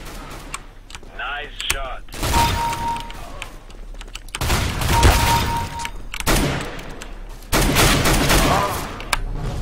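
Rapid gunfire in Counter-Strike: Global Offensive, loud repeated bursts spread across the stretch with brief gaps, mixed with game effects and a short tonal beep.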